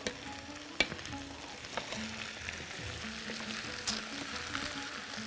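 Fish fillet fries in a hot pan with a soft steady sizzle, broken by occasional scrapes and clicks as the food is stirred and turned, close and fairly quiet.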